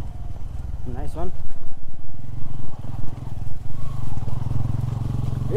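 A Bajaj Pulsar N160 motorcycle riding along a Nepali road, its engine running with a steady throbbing drone close by, while a rider talks over it.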